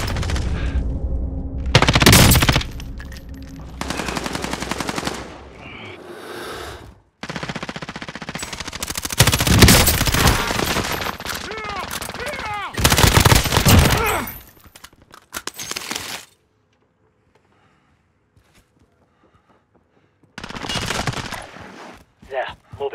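Pistol gunshots crack out in loud, rapid bursts alongside other gunfire and crashing impacts, with heavy rumbling between volleys and a near-silent stretch before the firing resumes, while voices shout in the mix.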